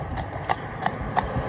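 A pony's hooves clip-clop on a town road in a steady, even rhythm, with several distinct sharp knocks close by over light background noise.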